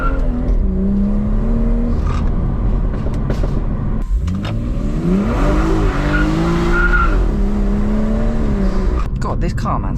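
A stage 1 BMW M240i with 420 bhp squeals its tyres as they fight for grip, the pitch rising and falling over a loud engine drone while someone talks.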